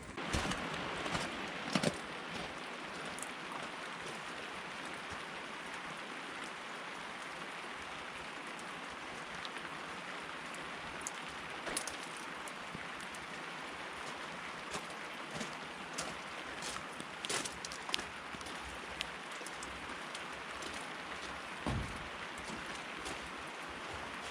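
Steady rain falling on and around a single-cab short-bed Chevrolet S10 pickup truck, a soft continuous hiss with scattered sharper drip and patter hits, heard alone without talk.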